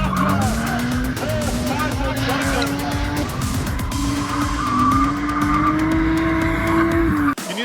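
A race car sliding around a track, its tires squealing in long, wavering whines over a loud engine drone that rises and shifts throughout, close and continuous before cutting off abruptly at the end.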